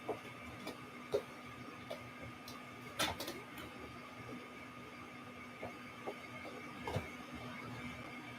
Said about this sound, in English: When the pump activates, it'll start to suck the white through.